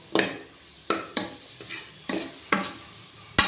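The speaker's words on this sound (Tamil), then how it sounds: "போட்டு நல்லா இப்போ கலக்குங்க" Meal maker pulao being stirred in a pan with a spoon, about seven distinct scraping strokes at an uneven pace, each one followed by a soft sizzle, close and fairly quiet with no talking.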